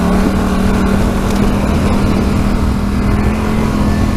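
A 2014 Polaris Scrambler 850 ATV engine pulls hard, a loud steady droning roar with a strong low hum that holds under throttle, close up, with no talking.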